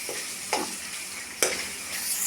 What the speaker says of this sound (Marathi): 5-6 मिनटं थोडा वेळ तळू, कारण हे कांदे टमाट्याचा कच्चापणा निघून जाईल